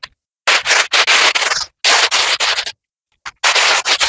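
Dry beans poured and shaken through a sieve, giving loud, close rushing rattles in several bursts separated by short silences, with no talking.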